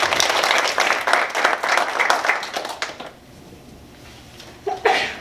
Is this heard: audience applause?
yes